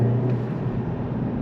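Steady, throaty low exhaust note from a 300-horsepower Volkswagen T-Roc R with a titanium exhaust line and DSG gearbox, a continuous close drone without talk.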